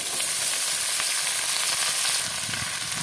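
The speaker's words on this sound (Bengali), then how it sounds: "পেঁয়াজটা ভাজা হয়ে গেছে, দিয়ে দেবো সবজিটা।" Chopped onions and green chilies frying in hot oil in a pan as mixed vegetables like beans, eggplant, potato and pumpkin are added, a loud steady sizzle with faint stirring.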